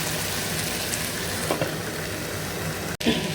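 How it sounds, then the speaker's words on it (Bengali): Long beans and potato frying in a pan give a steady, even sizzle throughout, with a faint clink or two near the end. "আর এখানে বরবটি আর আলুটা ভাজি"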